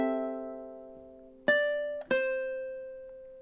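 A ukulele plays measure 35 of a song: a plucked note rings out, then two more picked notes follow about half a second apart, each clear and close, sustaining and fading alone.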